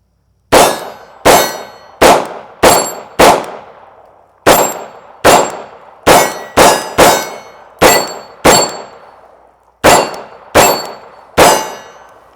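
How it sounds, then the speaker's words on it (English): A CZ P-07 compact pistol fires at a shooting range, fourteen loud, sharp gunshots in uneven groups with short ringing tails, some shots in quick pairs and a couple of longer pauses between strings. "let's just keep shooting. Let's go first round double action again."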